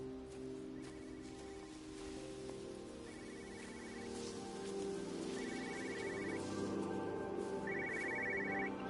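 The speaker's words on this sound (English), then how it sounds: "I hear a phone." A telephone rings in the video game Everybody's Gone to the Rapture, four evenly spaced trilling bursts over a soft, rain-like ambient backdrop that slowly grows louder.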